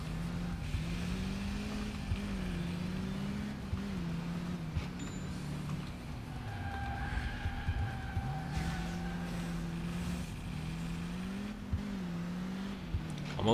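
A car in the driving game Crash Time 2 whines with a steady engine note, its pitch wavering and dipping as the car skids and slides, with a few brief thumps of impacts and no talking.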